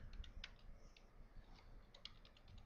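Soft, quiet clicking of keys on a computer keyboard while a title is typed into a spreadsheet, irregular taps spread across a short stretch with no talking.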